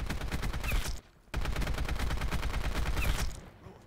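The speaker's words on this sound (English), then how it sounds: "everyone kind of knows that sound of the AN94" Continuous rapid automatic fire from an AN94 rifle in a first-person shooter game, loud and close, broken by one short pause near the second mark before the burst resumes and trails off.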